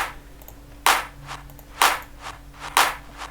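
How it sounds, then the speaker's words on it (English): A crisp electronic clap sample for a progressive house or melodic techno track repeats about once a second, each hit a bright, snappy burst with a faint softer hit between them, over a low steady hum. "The next one is a clap."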